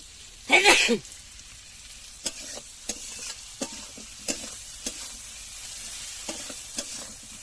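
Potatoes frying in oil in a home kitchen: a quiet, steady sizzle with a loud clatter near the start and a series of light utensil taps and stirring scrapes at uneven intervals.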